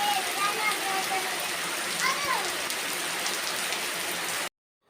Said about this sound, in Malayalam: അപ്പോൾ ഇതാ പുറത്ത് നല്ല മഴ പെയ്യുന്നുണ്ട് കേട്ടോ.